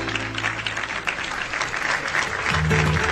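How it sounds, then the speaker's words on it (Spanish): Audience applause following a live tango song at a folk and tango afternoon concert, steady dense clapping filling the whole stretch with a low musical tone lingering underneath. "Y valen los aplausos."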